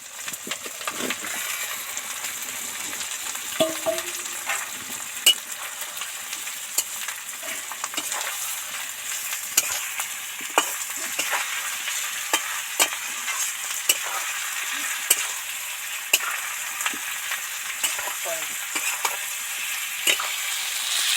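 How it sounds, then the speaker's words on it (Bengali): Fried potato and cauliflower pieces stirred into sizzling cumin, coriander and chili masala in oil, with steady frying hiss and repeated scraping, clinking stirs of a spoon against the pan. "এবার ভাজা সবজিগুলো এর মধ্যে উঠিয়ে দেবো"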